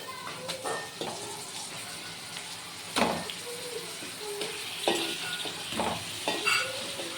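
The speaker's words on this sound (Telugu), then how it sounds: "చేప ముక్కలను అనేవి అయితే వేసుకుంటాను" Pieces of a large fish, the valga variety, go into a simmering village-style masala gravy, with scattered clatters and soft sizzling bursts as they are stirred in, close by and moderately loud, no talking.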